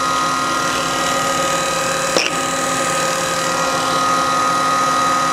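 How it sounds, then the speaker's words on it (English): Jones & Shipman universal cylindrical grinder with its ID spindle spinning, a steady machine hum and whine holding level throughout with one brief click partway through, no voices. "So there's your ID spindle. That's going around."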